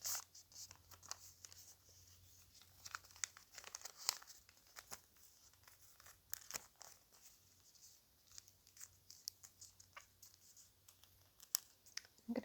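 Close, quiet paper crinkling and rustling in an ASMR session, irregular soft crackles and taps spread across the whole stretch with no talk.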